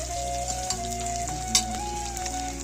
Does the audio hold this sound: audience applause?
no